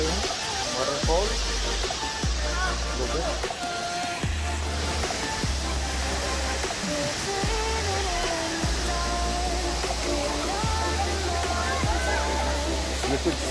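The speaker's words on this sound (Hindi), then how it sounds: "वाटरफॉल" Ban Jhakri waterfall in Gangtok pours with a continuous broad rushing roar, close and steady throughout, while a voice talks over the water.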